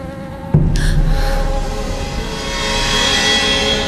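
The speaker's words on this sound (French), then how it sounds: "C'est quoi toutes ces mouches?" Several flies buzz steadily in an outdoor spot on a dangerous island, a continuous droning hum with a sudden loud onset that holds at a fairly close, even level throughout.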